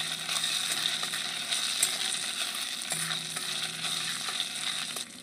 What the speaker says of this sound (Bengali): তেলের মধ্যে আদা বাটাটা ভালো করে কষিয়ে নেব।